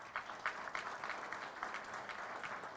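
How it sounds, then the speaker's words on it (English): An audience at a JROTC award banquet claps steadily for a few seconds, a moderately distant patter of many hands with no voices over it. "Please hold your applause until all of them have gone through, please."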